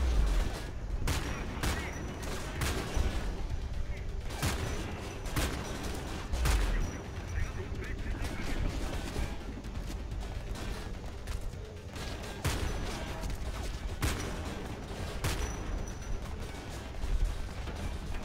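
Rapid gunfire in the video game Homefront The Revolution as a Humvee's occupants are shot, dense continuous bursts and booms over a low rumble that stays loud throughout, with no talk.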